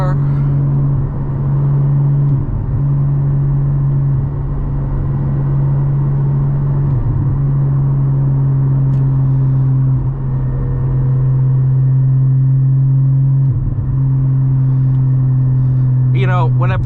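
Steady, loud engine drone from a 2022 Porsche Cayman GT4 manual with Valvetronic exhaust, heard from inside on the move, with brief dips like gear changes throughout and a short rise in revs at the end.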